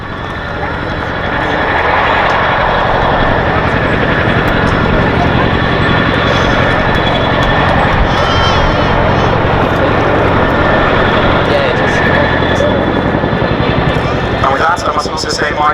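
A 15-ton helicopter at Duxford Air Festival hovers and then departs backwards, its heavy rotor thrum and turbine whine swelling to a loud, continuous roar that holds before easing slightly at the end.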